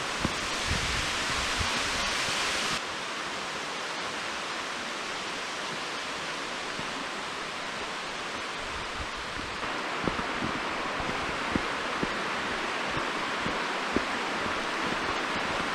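Steady, broadband rushing of falling water, constant and fairly close, with a few faint knocks and shifts in tone partway through.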